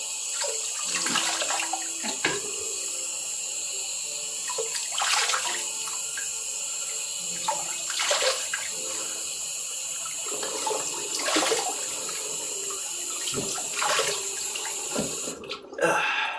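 Cold tap water runs and splashes at a bathroom sink as a face is rinsed, with a steady close faucet stream and repeated bursts of splashing every few seconds.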